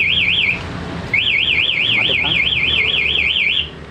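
An aftermarket motorcycle alarm fitted to a Yamaha R25 wails loudly in a rapid warbling siren, cutting off briefly after half a second and then resuming steadily for over two seconds, close by.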